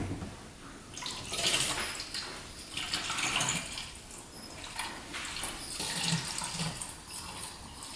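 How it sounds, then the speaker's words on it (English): Coolant pours into the cooling system of a UTV during a repair, a steady splashing, gurgling liquid stream with surging bursts throughout, fairly close. "Time to get the coolant in."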